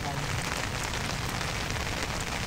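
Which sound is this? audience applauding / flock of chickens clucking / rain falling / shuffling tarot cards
rain falling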